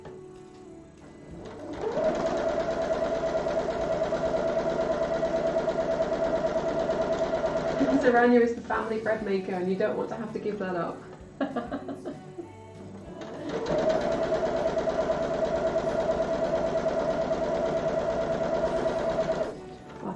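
A sewing machine stitches quilt hexie pieces in long steady whirring runs, broken by a short pause with rustling and handling, and a voice talks throughout.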